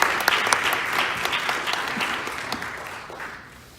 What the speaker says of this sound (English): let's give a round of applause to our host church